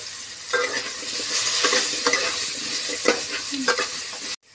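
Pointed gourd pieces frying in hot oil with salt and turmeric, a steady loud sizzle broken by repeated scraping stirs of a spatula in the pan.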